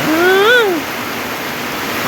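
Heavy rain falls at a green house, making a steady, close broadband hiss throughout. A brief rising and falling tonal sweep cuts through at the very start.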